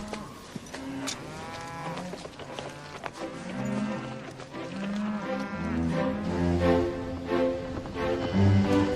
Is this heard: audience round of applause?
no